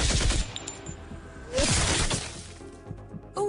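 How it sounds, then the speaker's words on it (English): Autocannon fire in a sci-fi tabletop game, rapid bursts of crackling, shattering blasts in two clusters with a short gap between, loud and close, no talk. "Clara fires her autocannon at the second Void Stalker."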